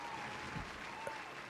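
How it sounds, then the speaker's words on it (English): A studio audience claps steadily in a short, even burst of applause, moderately loud and sustained throughout. "Can we get a round of applause for just the courage that it takes to no longer tolerate?"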